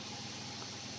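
A blower runs with a steady, even, broadband whoosh, alone and unchanging throughout.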